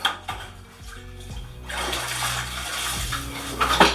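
Water splashes and runs as a sponge washes grout off freshly grouted floor tiles, a steady wet swishing with a few knocks early on, fairly close and alone.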